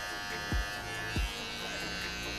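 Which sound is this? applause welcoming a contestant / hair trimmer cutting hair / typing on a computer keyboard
hair trimmer cutting hair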